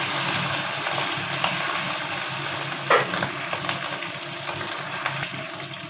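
Shrimp frying in oil for a Bengali bitter gourd, pumpkin and potato chorchori, a steady broadband sizzle with brief louder crackles, close and continuous with no talk.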